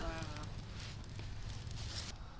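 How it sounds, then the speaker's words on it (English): A roaring, crackling campfire on a backpacking trip along the Ice Age Trail burns with a steady, close hiss and occasional sharp crackles, while a faint voice briefly murmurs at the start. "A genuine, roaring, crackling fire."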